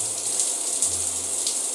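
A shower runs in South Park The Stick of Truth, a steady, even rush of spraying water that holds at one level throughout with no voices over it.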